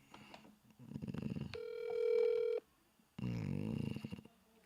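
Telephone ringback on an outgoing call: a steady, loud electronic tone with stacked harmonics, followed by a pause and then a warbling ring burst, with a brief bit of faint talk near the start.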